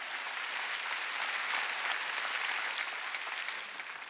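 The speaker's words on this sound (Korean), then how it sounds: "박수 쳐야 해요" A church congregation at a Sunday worship service claps together, a dense, even burst of applause that holds steady for several seconds before easing slightly at the end.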